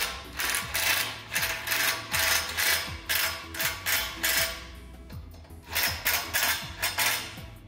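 A drill drives tech screws through pre-drilled holes into a metal barrier stanchion, giving repeated ratcheting, grinding bursts in an uneven rhythm, close and fairly loud.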